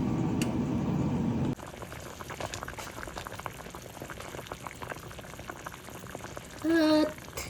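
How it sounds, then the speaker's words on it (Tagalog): A sour soup of milkfish and bitter melon boils in a pot. A dense bubbling rush fills the first second and a half, then a softer, steady simmer of pops and crackles continues, with a brief tonal clink near the end. "Pakuluin muna natin, guys."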